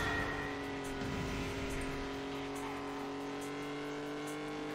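Engine of a Hot Wheels die-cast race car with an exposed blower in a racing video game, a loud steady droning whine that holds nearly constant, close and alone.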